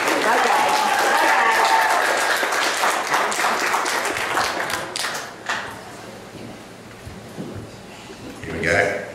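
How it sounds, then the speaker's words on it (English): Wedding guests clap in a round of applause for the bride's father, loud at first and then thinning out, with a few voices in the room. "So give him a round of applause, ladies and gentlemen."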